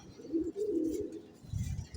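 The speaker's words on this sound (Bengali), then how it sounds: "এই যে নর কবুতরগুলো" Nearby male pigeons give low, warbling coos, two rounded calls in quick succession.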